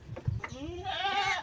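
Goats on a farm bleat near and loud, one long wavering cry following a few shorter calls, heard alone.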